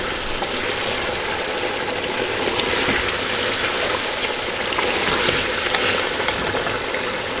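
Mutton is mixed in a hot pan with chopped green chilli, ginger and yogurt, producing a steady, dense sizzling hiss that stays even and loud throughout without talk.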